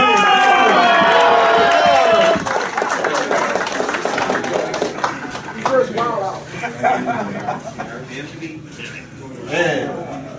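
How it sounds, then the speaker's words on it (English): Audience applause and cheering at a martial arts school's grand re-opening event, a loud burst of clapping and shouts in the first two seconds that fades into crowd chatter and scattered voices. "Let's give him one more round of applause."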